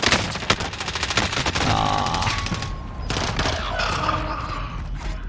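Video game Warzone gunfire and incoming airstrike rounds, with rapid bursts of shots, sharp cracks and heavy booming impacts crowding together at close range, then a rumbling roar that continues under the shooting.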